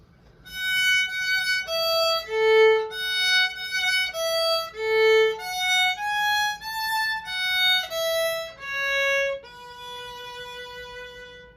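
A solo violin plays a slow, smooth melody of about a dozen connected legato notes, each swelling gently, clear and close with no voices.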